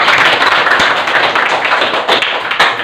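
An audience gives a dense, steady round of applause for a guest speaker at a school entrepreneurship session, close and fairly loud with scattered sharper claps and no talking.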